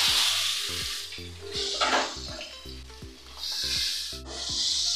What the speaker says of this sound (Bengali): পটলটা ঢেলে দিচ্ছি।